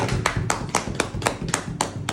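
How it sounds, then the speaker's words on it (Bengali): Nine sharp hand claps in a steady, even rhythm, about four per second, close and fairly loud against a low background hum, with no talking. "একটা হাততালি হবে।"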